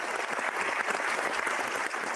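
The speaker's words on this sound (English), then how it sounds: "I appreciate the applause for it" An audience applauds continuously at a sports talk show taping, a dense, steady clatter of many hands clapping throughout, no one speaking over it.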